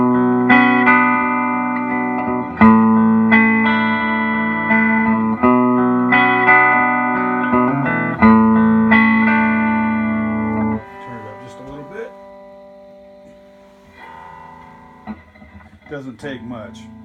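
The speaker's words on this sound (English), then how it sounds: "I put in a set of JJ tubes, and let's see how that sounds with a little reverb." An electric guitar plays through a 1968 Princeton Reverb amp fitted with JJ tubes, its reverb switched on. Sustained chords ring out in repeated strums with a lingering reverb tail, then give way to sparser, quieter picked notes.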